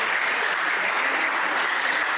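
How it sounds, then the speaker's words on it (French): An audience at a French school ladle-race event applauds the cadets with steady, dense clapping throughout, close and loud, with no voices over it. "On les applaudit les cadets."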